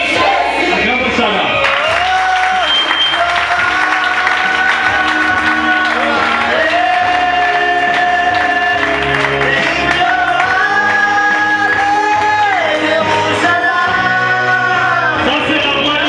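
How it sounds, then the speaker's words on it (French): Church congregation acclaiming loudly, a dense continuous roar of voices with sustained tonal shouting and cheering that rises and falls across the whole stretch, filling the room at close range. "Acclamons ça là."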